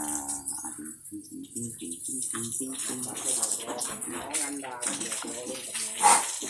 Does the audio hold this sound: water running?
yes